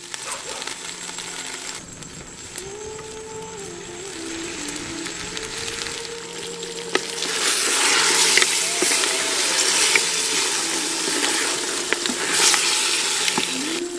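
Mutton marrow bones fry with hand-ground masala in a pan, a steady broadband sizzle that grows louder and fuller about halfway through, with a faint tonal hum underneath and no talking.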